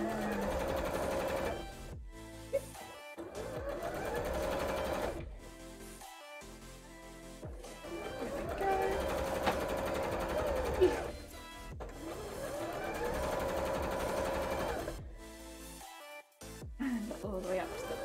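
Sewing machine stitching cosplay shorts in rapid bursts, stopping and restarting several times, with a person talking between runs until the bobbin thread runs out.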